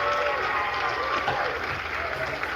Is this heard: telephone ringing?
no